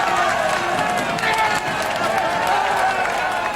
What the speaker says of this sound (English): Once again now, the Dutch applying the pressure, responding to the cheers from the crowd.